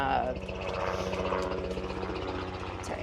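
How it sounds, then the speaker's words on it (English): A helicopter's low rhythmic rotor thumping drones steadily overhead while someone talks. "helicopter."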